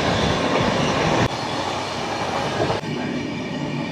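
The 12262 CSMT Duranto Express, with its mixed coaches, rolls along the tracks from Kolkata to Mumbai in a loud, steady rumble heard from inside. Two brief sharp clacks break the drone, and nobody speaks.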